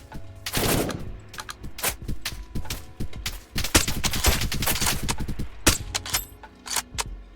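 Rapid bursts of PKM machine gun fire in the video game Apocalypse Rising 2, sharp cracking volleys at an irregular rhythm, loud and close with brief pauses between strings of shots.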